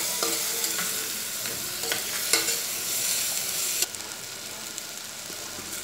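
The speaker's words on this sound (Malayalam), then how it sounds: "ഉരുളക്കിഴങ്ങൊന്നും ചേർത്ത് വഴറ്റി കൊടുക്കണം." Potatoes sizzle and fry in a hot pan while being stirred, scraping and clinking of a spoon against metal repeating over a steady close frying hiss, with a sharper scrape near the end.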